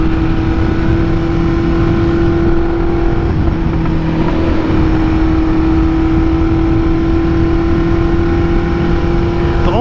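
A 1974 Honda CB400F motorcycle cruising, its engine a loud, steady, close-up drone with a sustained tone that shifts slightly partway through, under rushing wind and with no one talking.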